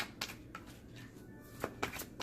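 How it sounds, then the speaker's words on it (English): Shuffling of a Doreen Virtue oracle card deck, with a few quick riffling bursts and soft card slaps close by, quiet and alone over a faint background hum. "just like the way it shuffles"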